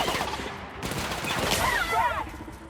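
Gunfire in the video game The Outer Worlds, dense overlapping bursts and rattling shots mixed with game effects, steady and fairly loud throughout with a voice faintly present.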